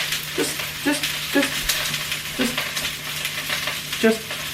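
Steady sizzling and crackling of food frying in a pan, with occasional stirring scrapes and a faint background hum; no voices.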